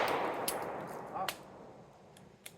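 Sharp gunshot cracks at an outdoor shooting range, a few spaced reports of varying loudness over a steady background hiss, with no talk.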